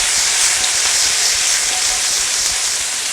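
Food in hot oil on medium-high heat, steady and loud, gives off a close, constant hissing sizzle with no break.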